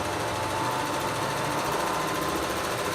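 An overlocker stitches a rolled hem test on fine fabric, a fast continuous mechanical whirring and rattle held at a steady level throughout, close and alone without voices.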